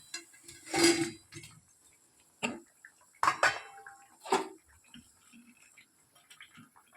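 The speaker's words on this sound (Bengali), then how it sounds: "এবার আমি বড়াগুলো দিয়ে দিচ্ছি এটার মধ্যে" Lentil fritters are dropped into a pot of boiling tamarind broth, giving a few separate clanks and splashy knocks of utensil against the pot with quiet bubbling between them.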